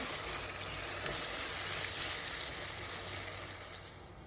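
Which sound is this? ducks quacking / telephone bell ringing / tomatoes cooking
tomatoes cooking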